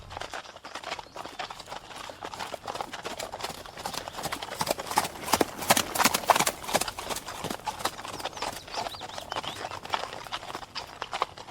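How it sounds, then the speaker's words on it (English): Horse hooves clip-clop steadily on the ground in a brisk repeated rhythm, moderately close and fairly quiet, with occasional faint background sounds. "Do you think that was one of their horses?"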